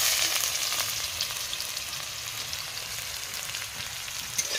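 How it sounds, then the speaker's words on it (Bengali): Onions go into caramelized sugar in a frying pan. They sizzle steadily and quietly with a soft, even crackle and faint stirring, and no one speaks. "দেখো পেঁয়াজ দিচ্ছি"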